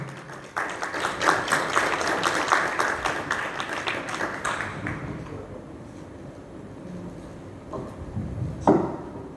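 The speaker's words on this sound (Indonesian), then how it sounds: "kita berikan kesempatan kepada beliau, berikan tepuk tangan" Audience applause at a talk on digital marketing, dense clapping from a crowd that swells for about five seconds, then thins to scattered claps and fades out, with a few louder claps near the end.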